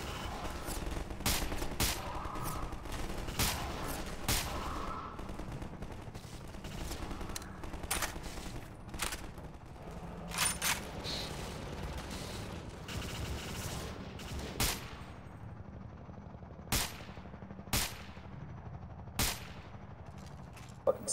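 Gunfire in Garry's Mod: rapid bursts of sharp shots and repeated automatic fire, dense at first and then thinning to scattered single cracks.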